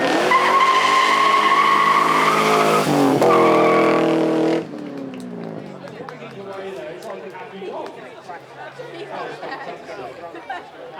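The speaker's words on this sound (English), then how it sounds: "How about a Rover V8 though? Let's hear what the Ginetta can do." A Ginetta race car with a Rover V8 engine roars loudly past on a track, its revs rising and falling through gear changes. Crowd chatter and background noise carry on after the car moves away.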